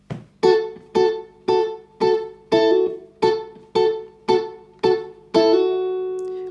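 Electric guitar plays a funky part from a song, short double-stop stabs with a hammer-on, about ten crisp evenly spaced hits, the last left ringing out, close and alone.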